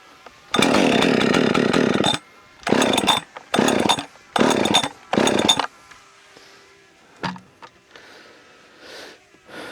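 Husqvarna 564XP and a ported, dyno-tuned 562XP chainsaw, both warm from sitting in the shade: a long throttle rev, then four sharp blips of high-pitched engine screaming, close by, before dropping to a quieter idle.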